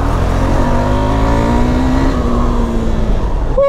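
A KTM Adventure 390 motorcycle runs steadily close by during off-road riding. The engine drone holds loud and even for the whole stretch, its pitch rising slightly and then easing, with a brief sharp sound at the very end.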